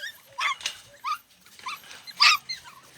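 Puppies whimper and yip at breakfast time in a series of short, high, quiet cries spaced through a near-silent background.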